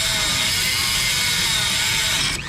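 A Dremel cuts a bent kingpin on a Briggs LO206 racing kart with a steady, high, loud whine. The grinding holds constant for about two and a half seconds, then cuts out abruptly.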